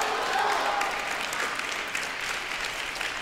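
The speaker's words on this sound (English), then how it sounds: "You can hear the celebrations of the Texas players cheering on their teammates." Texas players cheer and clap for teammates at a college coed team table tennis final, a steady wash of applause and crowd noise throughout with no clear speech.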